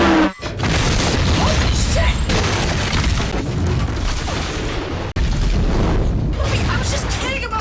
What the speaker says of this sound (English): there's a sudden explosion and the train crashes into the scene